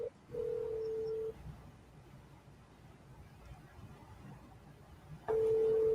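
A telephone call rings out on the line with two steady electronic tones, a short one near the start and another that returns at the end, separated by a quiet low hum.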